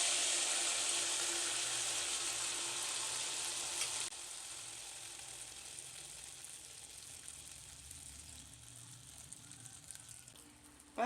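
Wheat flour appam batter frying in hot oil, a steady close sizzle that is loudest at first and then settles into a softer, even crackle, with no talking.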